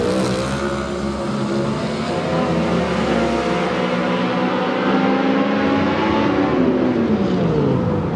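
Loud, roaring engines of a pair of competition eliminator drag racing cars, including a nostalgia dragster, launch down the strip at Texas Motorplex, a dense, continuous roar that shifts in pitch as they pull away.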